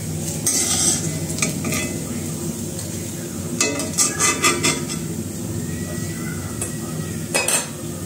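Small puti fish fry in oil in a pan, a steady sizzle broken by stirring scrapes and metallic clinks of utensils, with faint voices in the background.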